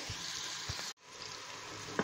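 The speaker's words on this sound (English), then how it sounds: "Okay, now in go the onions." Chopped onions sizzle steadily in a hot pan for a stewed chicken curry base, with a loud continuous frying hiss and soft scraping stirs. There is a brief break midway, and no one talks.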